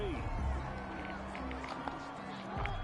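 Stadium crowd cheering and roaring in Madden 21 American football after a kick return, a steady far-off crowd under the commentator's voice.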